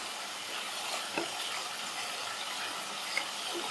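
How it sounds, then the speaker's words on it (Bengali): Spice masala for hilsa biryani fries in a pan, giving a steady soft sizzle throughout with faint clinks of stirring, fairly quiet and with no voices. "মশলার সাথে মিশিয়ে মশলাটাকে আমি কষিয়ে নিচ্ছি"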